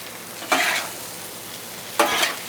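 Lasagna ingredients with ricotta and Parmesan being mixed on a hot Blackstone griddle: a steady low sizzle broken by two brief, louder scraping bursts of spatula stirring, with no talking.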